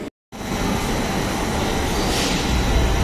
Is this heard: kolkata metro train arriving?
yes